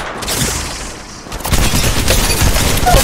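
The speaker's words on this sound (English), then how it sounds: "Fire downrange." Gunfire in the Apex Legends video game, played on an iPad Pro 2021 M1: a quieter stretch gives way to a dense, loud fusillade of rapid automatic shots that keeps going to the end.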